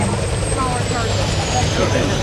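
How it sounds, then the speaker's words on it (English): A twin gas turbine Marine Cobra military helicopter close by, a loud steady turbine roar and whine with low rotor rumble, while someone talks over it. "Twin gas turbine engines."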